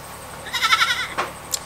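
A goat bleats loudly and close by in one wavering cry, followed by two shorter, fainter bleats, with no talk.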